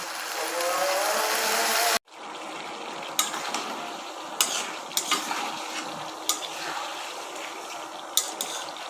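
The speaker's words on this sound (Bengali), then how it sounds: "সবজিগুলো ভালো করে কষিয়ে নিব" Winter vegetables sautéing in a pan, an even sizzle at first that drops off suddenly, followed by scattered scraping and clinking stirs of a spatula against the pan.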